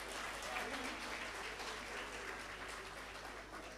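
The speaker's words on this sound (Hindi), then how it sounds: "इरफान भाई के लिए तालियां बजाइए।" An audience applauds at an Urdu poetry reading, a steady, fairly faint patter of clapping heard from a distance with crowd murmur underneath.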